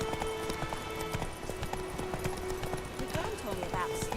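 In The Witcher 3, the horse Roach gallops with a rapid rhythmic clip-clop of hooves, steady and fairly close, while a voice talks over it and the game music plays.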